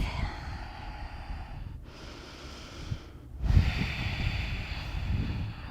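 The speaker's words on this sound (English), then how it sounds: "Big breath." Heavy breathing during a yoga flow in downward-facing dog: two deep, audible inhales and exhales, close to the microphone and without talk.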